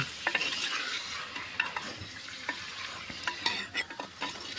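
Country chicken curry stirred in a pan, a wooden-sounding scrape and soft sizzle repeating in quick, uneven strokes, close and moderately quiet with no talking.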